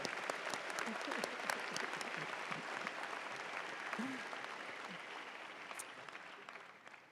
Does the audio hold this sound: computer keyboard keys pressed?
no